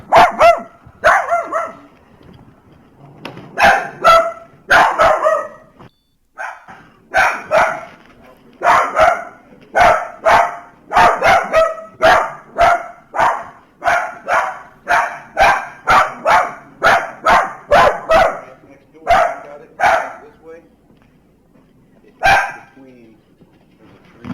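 Dog barking repeatedly in rapid, evenly spaced bursts, loud and close, continuing for around twenty seconds with brief pauses in between.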